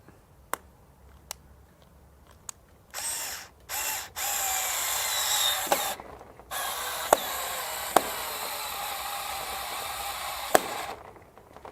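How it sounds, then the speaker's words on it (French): An electric screwdriver with 4 Nm torque drives a screw into wood, whirring in close bursts that stop and restart, while the clutch slips with a ratcheting buzz and a few sharp clicks. "si je choisis un embout plus ajusté, est-ce que je vais pouvoir enfoncer ma vis plus loin"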